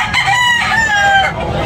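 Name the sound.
rooster crowing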